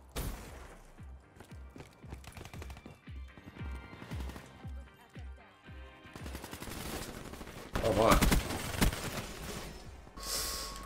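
A Vesper submachine gun fires in Black Ops 3 in short, rapid rattling bursts, the loudest clustered near the end, between quieter gaps of in-game sounds.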